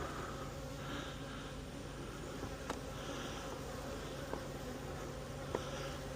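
Honey bees buzz steadily around an opened hive with a queen excluder, a dense continuous hum close by, with a few faint clicks from handling the hive.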